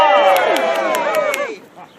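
A Yeoman Warder tour group at the Tower of London cheers and shouts together in a loud, close burst of overlapping voices lasting about a second and a half before cutting off.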